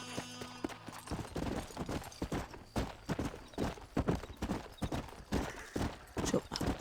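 Horse hooves clip-clopping steadily in the video game Red Dead Redemption, a continuous close rhythm of hoof strikes throughout, with a faint whinny among them.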